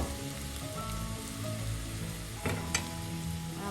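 Bitter gourd (pavakka) being stirred and sautéed in a pan gives a steady, moderate sizzle across the whole stretch, with a couple of brief scraping clicks near the end and no voices.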